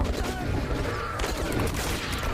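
Dense, continuous gunfire in a firefight from the game Metro Last Light, rapid shots blurring into a loud, sustained barrage with a faint voice underneath.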